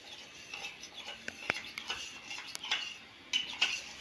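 A spoon clinks and scrapes against a small bowl while stirring rice cornflour into liquid to dissolve it for chicken soup, light irregular taps and swirls up close in a quiet kitchen.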